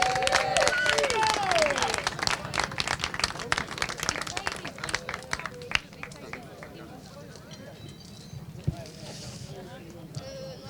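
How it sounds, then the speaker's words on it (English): A crowd applauds a junior kart driver at a British Kart Championships podium at Larkhall, with sharp dense clapping at first that thins and fades into a quieter murmur with scattered claps near the end. "huge round of applause, please, for the number 29 Fusion Motorsport driver, Fionn McLaughlin."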